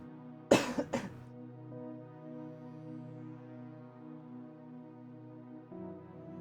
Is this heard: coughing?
yes